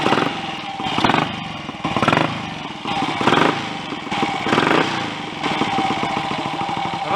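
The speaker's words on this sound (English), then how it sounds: "I've just started the engine up again after refitting the alternator, rotor and stator." A Royal Enfield 250 GT motorcycle engine runs close by after a refitted alternator, rotor and stator, revving up and down in repeated surges with a rough, clattering idle between them.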